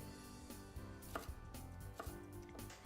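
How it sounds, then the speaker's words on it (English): A knife chops a red onion into strings on a cutting board, giving soft, irregular close thuds in a quick rhythm under low background music. "So we're going to cut some strings of onion"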